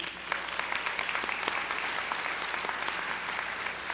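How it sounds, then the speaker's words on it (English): A large audience at a law school hooding ceremony applauds steadily, a dense and sustained patter of many hands clapping at full volume throughout. "So let's give them a round of applause"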